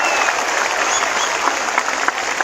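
Dense, loud applause from a large crowd at a mass political rally, steady clapping filling the whole moment without letup.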